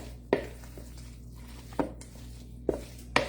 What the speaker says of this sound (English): I want to stir it in.